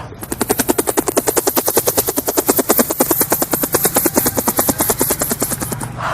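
Rapid, steady thudding of helicopter rotor blades, loud and close, pulsing evenly throughout with a low engine drone underneath.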